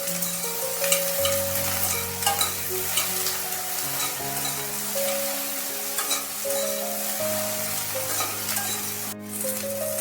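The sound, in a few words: okra frying with salt and turmeric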